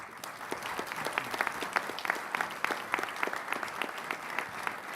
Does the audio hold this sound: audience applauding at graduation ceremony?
yes